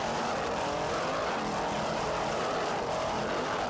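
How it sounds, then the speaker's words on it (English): Racing powerboat with two 600-horsepower Troy Dennis inboard engines in a 1994 South Padre Grand Prix race, a dense continuous engine roar that stays loud and steady throughout. "Listen to those two 600-horsepower Troy Dennis inboards."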